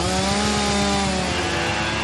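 A small gas string trimmer engine revs steadily at high pitch with a buzzing, raspy drone, close and loud throughout.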